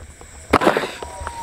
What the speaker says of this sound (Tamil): அடுத்து வெடிக்க போகிற வெடி